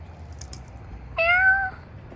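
A cat gives one clear, drawn-out meow about half a second long, fairly close, with only quiet background around it and no talk.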